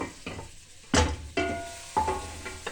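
Mint sizzling in hot oil in a pan, crackling bursts with sharp spikes as ingredients hit the oil, alongside stirring and pan clatter, close and clear.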